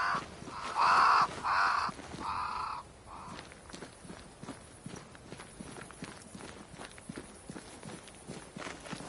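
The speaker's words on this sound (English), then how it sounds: "Crows. They flock to that great tree up there." Several loud crows caw in close succession early on in the video game Banishers: Ghosts of New Eden, followed by steady footsteps or hoof-like clopping continuing alone.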